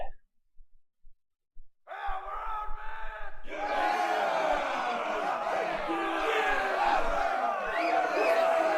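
Crowd at a pit fighting arena in a Neverwinter Nights 2 fantasy mod: after a few sparse sounds, a large crowd roar swells in and holds loud and continuous, with shouts and cheers.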